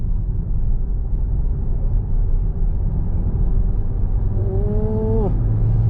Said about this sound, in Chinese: 地板油。